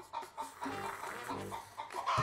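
Hens kept indoors in a room clucking in short repeated bursts, fairly close and moderately loud, with a few overlapping calls and no talking.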